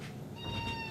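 A cat at a dog groomer's gives a short, faint meow, a single brief cry over quiet room noise.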